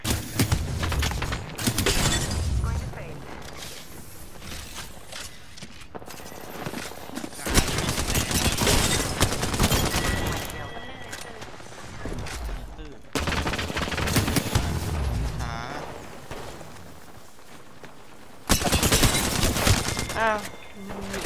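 Rapid bursts of Apex Legends gunfire in a Season 16 match crackle through most of the stretch in loud repeated volleys, with short lulls between them, while a player's voice talks over the shooting.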